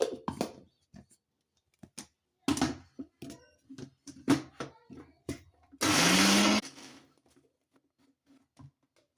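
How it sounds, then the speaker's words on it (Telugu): A mixer grinder grinding ridge gourd chutney gives one loud, short whirring burst, surrounded by kitchen clatter, clicks and brief bits of talk. "ఇప్పుడు దీన్ని మనం మిక్సీ పట్టుకుందాము."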